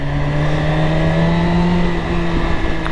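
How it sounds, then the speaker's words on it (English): A BMW S1000RR motorcycle with a carbon fibre exhaust rumbles steadily at close range, a continuous engine drone with slight revving swells throughout. "for some reason the exhaust sounds a lot louder."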